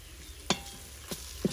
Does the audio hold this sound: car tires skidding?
no